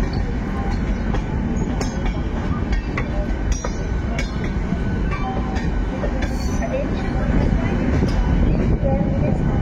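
A local train runs from Howrah to Kharagpur with a loud, continuous rumble and rattle, faint clickety-clack and occasional squeals.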